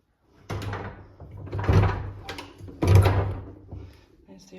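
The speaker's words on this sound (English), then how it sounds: "Right, close this door." An old wooden door in an abandoned homestead creaks and scrapes as it is pushed closed, ending in a couple of heavy knocks, close and fairly loud.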